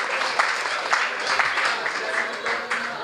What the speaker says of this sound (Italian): il bravo si merita un applauso